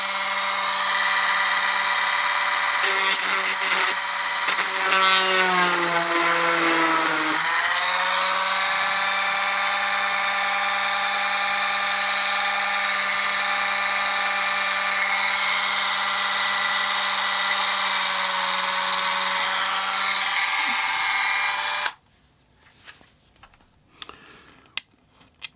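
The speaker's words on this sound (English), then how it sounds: "all the holes need to be drilled 1mm. So this drill is 1mm." A small drill whines steadily while boring 1mm holes in locomotive model kit parts, its pitch dipping briefly under load before holding, then cutting off to near silence with a few small clicks.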